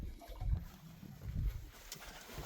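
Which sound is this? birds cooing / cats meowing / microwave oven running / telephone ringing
birds cooing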